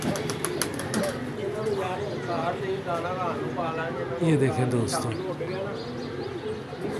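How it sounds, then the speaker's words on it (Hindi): Pigeons on a rooftop coo in low, rolling calls with occasional wingbeats, steady and fairly close, while someone speaks over them throughout. "ये देखें जी, कुछ कबूतर ऊपर आए हैं"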